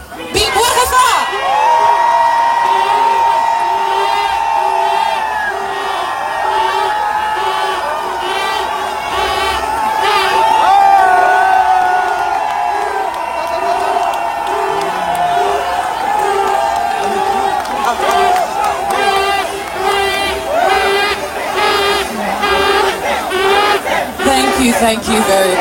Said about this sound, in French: Applaudissons pour Sa Majesté Bingwa Rafa.